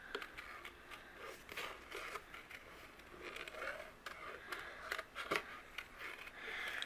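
Scissors fussy-cut around a stamped flower image on cardstock, giving a series of close, quiet snips and paper scrapes in an uneven rhythm.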